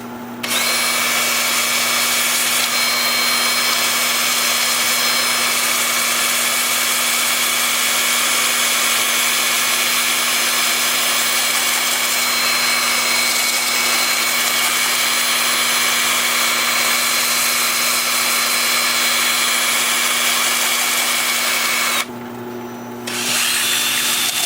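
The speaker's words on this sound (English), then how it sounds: "then I'll use this at 180 while the piece is spinning, and that will smooth out the edges of these holes" A sanding disc at 180 grit smooths the edges of holes in a piece of wood spinning on a wood-turning lathe, making a loud, steady whir that holds for the whole stretch and stops only briefly near the end.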